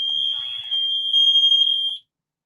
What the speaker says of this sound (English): Fire alarm. Fire alarm.